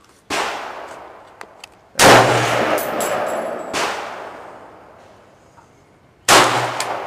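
Gunshots from a Kriss Super V .45 carbine at an outdoor shooting range: three loud, sharp reports spaced a couple of seconds apart, each followed by a long decaying echo, with a faint click between them.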